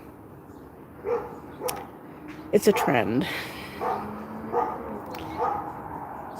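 A dog barks and yips from down the street in a neighborhood, several distant, moderately loud barks spread across the stretch, with a person talking briefly partway through.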